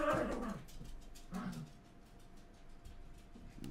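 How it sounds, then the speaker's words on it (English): A dog whimpers and yips in short, faint bursts close by, with a couple of louder cries early on against a quiet indoor background. "What's up with my dog, huh?"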